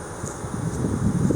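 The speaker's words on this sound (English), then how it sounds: "It's a little windy today." Wind gusting outdoors beside horizontal beehives, a steady broad rushing and buffeting across the microphone that swells slightly toward the end, with no other clear sounds.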